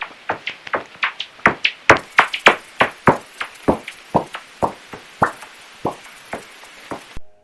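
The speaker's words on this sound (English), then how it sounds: "Noctules make a chip-chop sound like this one." Noctule bat calls heard through a bat detector: a rapid, irregular series of sharp chip and chop clicks, about three per second, alternating in pitch and loudness, close and clear, with no talk.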